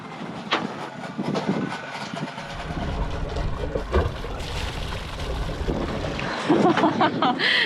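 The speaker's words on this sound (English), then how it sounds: "Engine's on, water's coming out." A sailboat's engine rumbles steadily throughout at launch, with churning, splashing water noise on top, fairly loud and close, without speech.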